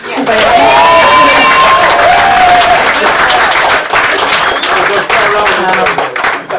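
A bar audience at an open mic night applauds and cheers a staff member named Gus, a loud sustained burst of clapping and crowd noise with a few whoops, holding steady throughout and tapering slightly at the end.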